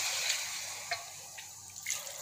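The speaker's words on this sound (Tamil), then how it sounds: "இதில் கொஞ்சமாக தண்ணி தெளிச்சிடலாம்." Rice-washing water sprinkled in small splashes over a raw country chicken mixture for chukka, giving a soft continuous watery hiss with a few brief drip-like spatters.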